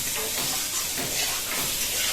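Hot oil bubbling and sizzling in a very hot kadai, a steady close hiss with small crackling pops throughout and no voices.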